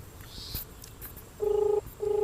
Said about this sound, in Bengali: শুনতেই পাচ্ছ রিং হচ্ছে এখন